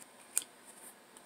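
Scissors snipping off excess nylon stocking from a handmade flower, a single sharp close cut followed by a couple of faint small snips in a quiet room.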